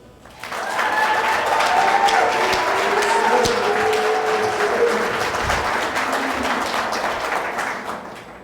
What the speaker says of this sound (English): Please join me in celebrating the bride and groom with a round of applause